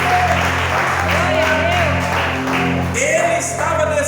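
Church congregation applauding during a worship service, a steady, loud wash of clapping lasting throughout, with voices and sung or spoken tones running underneath.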